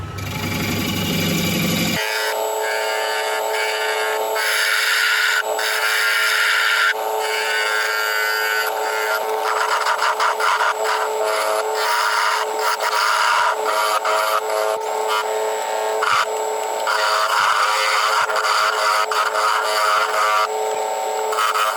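Woodturning lathe cutting the wooden base of a turned piece, a loud, steady scraping and ringing whir of the tool against spinning wood that runs continuously after a brief low-pitched start, with no talk.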